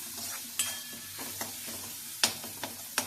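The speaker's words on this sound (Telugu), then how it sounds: "కొంచెం టమాటా మగ్గాలండి." Chopped tomato cooking in a pan for a quick sabudana snack, a soft steady sizzle close up with a few sharp scraping clicks as it is stirred.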